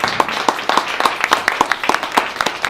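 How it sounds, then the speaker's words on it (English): A forum audience gives a city councilman a brief round of applause, scattered hand claps in a loose rhythm of moderate loudness, with a faint repeating tone sounding underneath. "Give him a round of applause."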